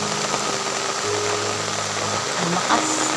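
Rain falls steadily near Toledo City, Cebu, a dense, even hiss of drops with a faint engine hum underneath.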